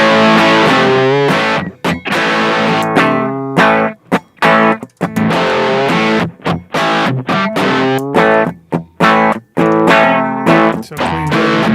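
A guitar played through the distortion channel of a DirectAmp with the distortion gain turned up, loud, saturated chords and riffs in choppy bursts with brief silent gaps, no talk.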